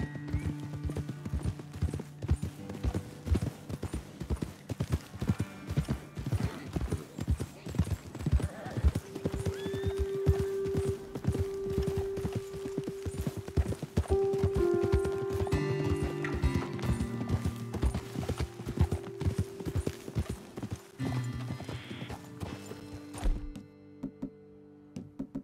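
Horses' hooves clip-clop at a steady walking pace in the Red Dead Redemption 2 video game, with a horse whinnying and snorting midway through and a few thuds as the riders dismount near the end.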